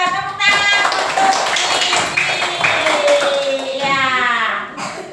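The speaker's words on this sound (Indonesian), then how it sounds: "Pintar, tepuk tangan untuk" A classroom of schoolchildren clapping in unison for a pupil, a loud, steady burst of hand claps lasting several seconds, with a teacher's voice heard over the start.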